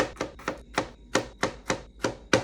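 A big knife chops slivers into little bits on a cutting board while preparing a crockpot tofu red curry, eight sharp, close knocks falling at a quick, fairly even rhythm with no voices.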